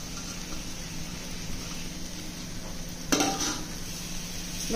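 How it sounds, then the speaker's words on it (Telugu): A spoon stirs a potato fry with coriander in a pan, giving a steady close sizzle and scraping with a sharp clink of metal partway through, and no one speaks. "ఇప్పుడు ఇది మొత్తం కలిపేసి మూత పెట్టేసుకోవాలి"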